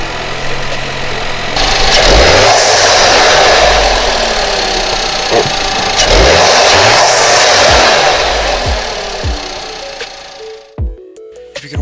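Volkswagen Jetta 1.8T turbo four-cylinder running close by before an engine air filter swap, a steady engine drone with two long swells in level, ending in clicks and handling noises.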